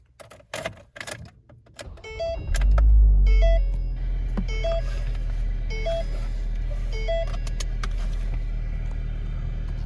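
A 2011 Ford Focus SE is started from inside the cabin: key and clicking sounds, a brief cranking whir, then the engine catches and settles into a steady idle, accompanied by repeated electronic chimes.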